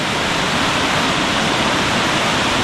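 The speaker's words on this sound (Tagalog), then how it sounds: "Sayang lang talaga tumuulan." Steady, loud rain pours down at an outdoor riverside day camp by clear water in Danao, Cebu, forming a dense, even broadband hiss that holds for the whole stretch with no voices over it.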